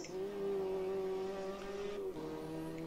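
Ginetta race car in Automobilista 2 at Donington running at full throttle, a loud, steady engine drone that holds its pitch, drops briefly as the revs fall, then climbs again.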